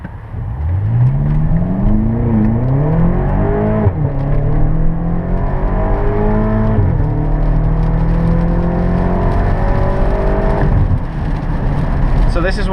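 BMW X5 M performance SUV accelerating hard, engine note rising through repeated gear changes with loud, continuous revving and shifts heard close up from inside, a voice speaking over it.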